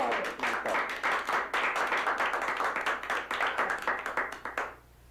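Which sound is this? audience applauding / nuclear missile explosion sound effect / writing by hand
audience applauding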